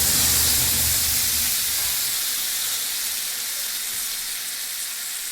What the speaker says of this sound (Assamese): বৰাখিনি এনেকৈ ভাজি ল'লোঁ।